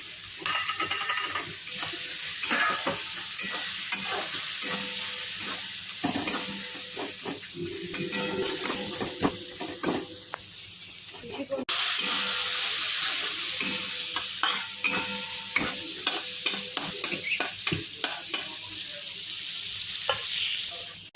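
Cumin, coriander, chili powder and turmeric fry in hot oil in a pan for a Bengali dish, a loud continuous sizzle with repeated scraping strokes of a spoon stirring throughout.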